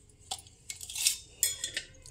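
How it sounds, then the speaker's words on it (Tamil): An old, heavy brass vessel is handled and measured. Light metallic clinks and scrapes come close but faint across about two seconds, with no speech. "பாத்திரத்தை மட்டும் அளந்து காமிக்கிறேன்."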